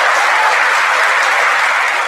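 Audience applause at a natural gas plant announcement in Piketon attended by workers, a loud unbroken roar of many hands clapping close by.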